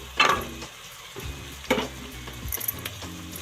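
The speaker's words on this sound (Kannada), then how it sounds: "ಇಷ್ಟನ್ನು ಹಾಕಿ ಫ್ರೈ ಮಾಡ್ಕೋಬೇಕು ಒಂದು ಐದು ನಿಮಿಷ ಫ್ರೈ ಮಾಡ್ಕೊಬೇಕು" Carrot, peas and potato sizzling in a hot pan for pulao, with a couple of sharp utensil scrapes and stirring clatters over a steady low frying hiss, alone and close.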